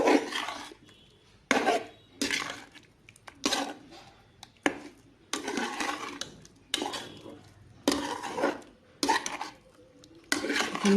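Hilsa fish being mixed by hand with mustard paste in a bowl, with repeated squelching, rubbing strokes in close, steady bursts separated by brief pauses.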